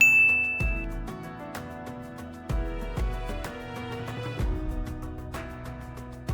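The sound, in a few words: notification bell ding sound effect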